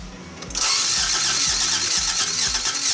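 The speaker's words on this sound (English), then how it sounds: "We're checking for spark. Alright, Evan, Yeah. give it a crank." A Toyota AE86 engine cranks over during a spark check, the starter churning in a steady rhythmic whir of repeated compression pulses that runs loud and close for nearly the whole stretch after a brief quieter start.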